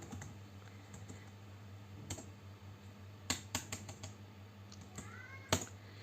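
Python code being typed on a computer keyboard: quiet, irregular key clicks with a few louder taps, close by over a low steady hum.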